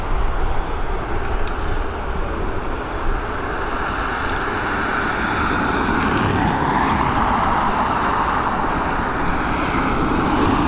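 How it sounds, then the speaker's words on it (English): An old Coast Guard helicopter departs Dublin Airport, its broad engine and rotor roar holding steady and loud throughout, with a faint wind hiss and no voices. "The old Coast Guard helicopter heading off."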